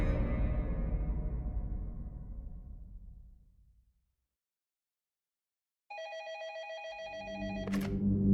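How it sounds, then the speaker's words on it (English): A telephone rings in a detective's office, a bright electronic trill starting after a fading low tone and a few seconds of silence, then continuing with a louder rumbling sound underneath. "Detective Verrier was in his office in Montpellier when his phone rang"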